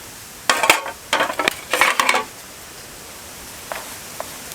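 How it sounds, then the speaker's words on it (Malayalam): Chocolate pizza ingredients are mixed in a pan over low heat, giving three or four close, brisk scraping strokes in a quick cluster, followed by a couple of faint taps, with no talk. "നന്നായിട്ട് മിക്സ് ചെയ്യാം"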